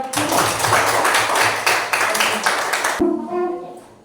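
Classroom students clap for a presenting group, a dense patter of hands for about three seconds before it stops and a voice begins.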